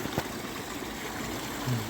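Clean mountain water runs steadily through a pipe into a lake in Norway, giving a continuous close gurgling, rushing flow with no pauses.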